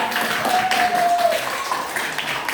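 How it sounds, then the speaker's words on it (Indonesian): A class of pupils claps together in a school classroom, a moderately loud wash of hand claps that holds steady with a brief whistle-like tone mixed in. "Oke, tepuk tangan."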